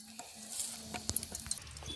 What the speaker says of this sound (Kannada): ಒಗ್ಗರಣೆ ಹಾಕ್ತವ್ರೆ ಸಾಸಿವೆ ಹಾಕಿದ್ರು ಇವಾಗ ಕರಿಬೇವು ಹಾಕಿ ಚೆನ್ನಾಗಿ ಫ್ರೈ ಮಾಡ್ತವ್ರೆ